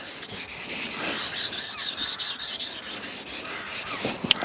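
A knife blade is sharpened on a Tormek T8 waterstone, giving a loud, rhythmic rasping scrape with about a dozen regular back-and-forth strokes and no talking.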